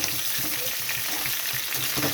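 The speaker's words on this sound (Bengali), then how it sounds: "দেখুন ভাজাটা হয়ে এসেছে, গ্যাসটা বাড়ানোই ছিল, বাড়ানো অবস্থায় চাপা দিয়ে রাখতে হবে, তাহলে কপিটা তাড়াতাড়ি ভাজা হয়ে যাবে।" Cauliflower frying in oil in a covered pan over high gas for a vegetarian curry gives a soft, steady sizzle, faint and even throughout with occasional light stirring and no talk.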